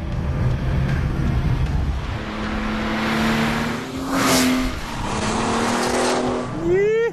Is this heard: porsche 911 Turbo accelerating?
yes